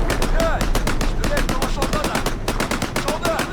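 Rapid automatic gunfire in the video game Rebel Yell fills a battle scene, bursts of sharp shots repeating loudly and densely with brief gaps, while a player's voice is heard amid the shooting.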